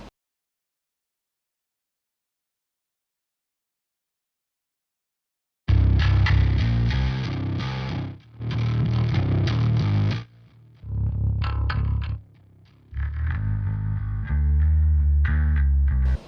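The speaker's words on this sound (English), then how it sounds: "And we have distortion on this channel." Bass guitar played through a blend of direct input, amp and distortion channels comes in after several seconds of silence, gritty distorted riffs in loud bursts separated by brief pauses.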